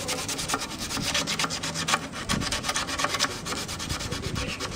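Hand sanding through the varnish on a violin body, working into tight corners: steady, close scratchy rubbing strokes in quick rhythm, fairly loud and continuous with no talk.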